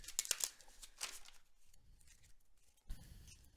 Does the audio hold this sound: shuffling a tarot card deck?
yes